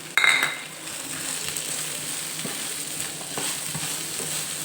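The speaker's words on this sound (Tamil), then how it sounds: "தேங்காவில் வதங்கணும்னு இல்லை, லைட்டாக வதங்கினா போதும்" Grated coconut with a pinch of salt sizzles lightly in a pan while being stirred. A sharp utensil clink comes at the start, then a soft, even frying hiss.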